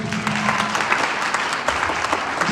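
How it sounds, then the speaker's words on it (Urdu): A church congregation claps loudly at a Sunday meeting, dense and sustained hand-clapping with scattered sharper claps, close and filling the room, a faint voice briefly audible at the start. "پھر بولو آمین، زوردار تالیاں۔"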